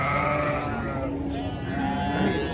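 Goat bleating at a busy livestock market, a steady wavering cry running through the clip over crowd murmur and nearby voices.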